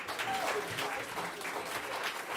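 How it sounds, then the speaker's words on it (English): A live studio audience at a show recorded in an Atlanta steakhouse applauds in a brief, even wash of clapping, moderately loud and steady throughout. "So if we can get a round of applause, awesome."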